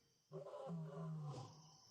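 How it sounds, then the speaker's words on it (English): A big lion lets out a single deep, drawn-out roar that swells suddenly from near silence, holds with a rough, rumbling tone and trails off, heard alone and fairly faint. "Lion. A big one. I think I hear a big one."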